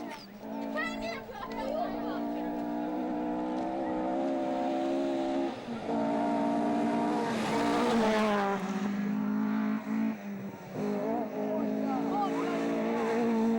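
Ford Escort rally cars lead a pack including Porsches on the East African Safari Rally, engines roaring loud and close with steady harmonic drone, pitch rising and falling through gear changes and a swelling pass midway, commentary voice faintly underneath.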